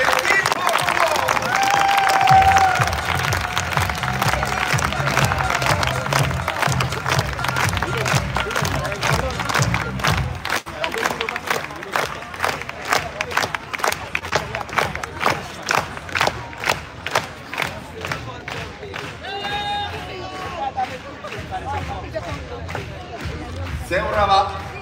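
A large outdoor crowd at a EuroBasket 2025 celebration in Tampere city centre cheers and applauds loudly and steadily for players being introduced, with bursts of shouting and dense clapping throughout, joined by voices near the end.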